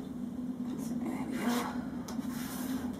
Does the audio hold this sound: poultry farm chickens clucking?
no